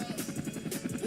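A helicopter flies indoors, its rotor giving a fast, throbbing chop that pulses steadily and loudly throughout, with a faint tonal whine beneath.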